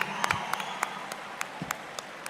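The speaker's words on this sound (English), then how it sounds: "please give a huge round of applause to the man behind the wonderful lyrics" Sparse, scattered hand claps from an audience at a film pre-release event, a few distinct sharp claps spaced over a soft crowd murmur, faint and somewhat distant.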